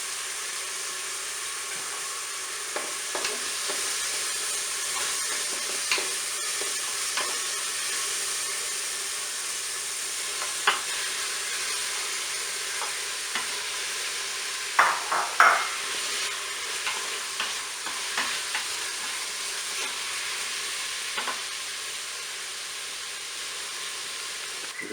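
Beef and browned onions frying in a Cookeo multicooker, a steady soft sizzle with scattered stirring clicks and scrapes, a few louder knocks midway, no voices.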